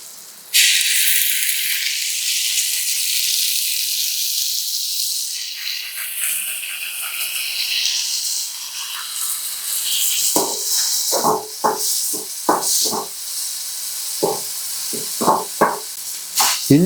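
Onions with ginger and garlic fry for veg momos in a loud, broad sizzle that fades over several seconds. Then come repeated scraping stirs and clinks of a spoon in the pan.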